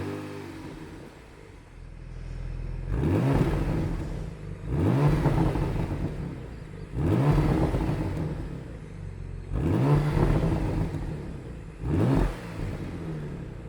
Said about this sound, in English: they both get a new sports exhaust system to make the V6 sound really good